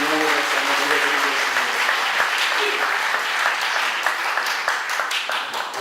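A congregation bursts into loud, sustained applause at a church missionary commissioning service, a full room of clapping that carries steadily throughout, with a brief tonal sound at the very start.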